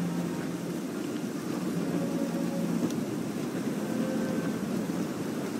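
Stormy weather in the Assassin's Creed Freedom Cry video game, a steady dense roar of rain with low rumbling thunder underneath, continuous and fairly loud, with no voices.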